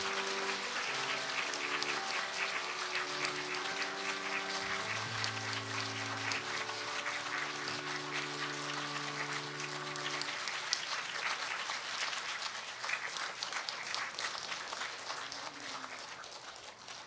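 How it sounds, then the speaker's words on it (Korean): A church congregation applauds steadily and continuously to welcome a Catholic priest, with sustained musical tones underneath during the first half. "환영의 큰 박수 부탁드립니다."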